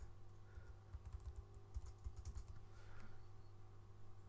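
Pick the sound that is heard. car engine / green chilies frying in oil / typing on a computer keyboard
typing on a computer keyboard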